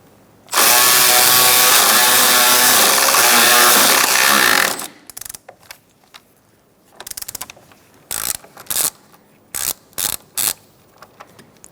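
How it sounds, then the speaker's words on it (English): A 13mm socket on a ratchet loosens the battery hold-down bolt on a 2012-2019 Fiat 500 1.4L: a loud, steady whirring burst for about four seconds, then a series of short, sharp clicking ratchet strokes in bursts. "Using a 13mm socket, we're going to remove our hold-down bolt."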